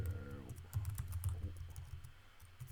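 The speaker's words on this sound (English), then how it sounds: "Don't judge my typing." Fast typing on a computer keyboard late at night, a quick irregular patter of close key clicks running throughout, with a brief musical tone fading at the start.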